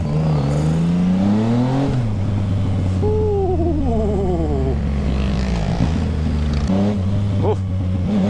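Yamaha XSR 900 motorcycle with an original exhaust revving loudly and close, its engine note climbing and falling through several throttle blips over a steady idle, with a voice speaking briefly under it.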